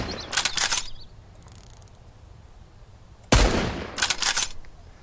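Shotgun blasts in the survival video game Mist Survival: a pair of sharp, loud bursts early, a quieter flurry, then a sudden heavy blast followed by two more cracking shots over low ambient noise.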